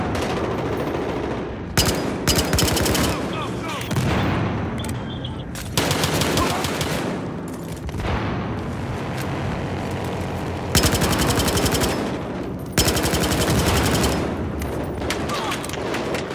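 Video game gunfire: loud, rapid machine gun bursts and fusillades in repeated volleys separated by brief lulls, close and dominant, with little talk.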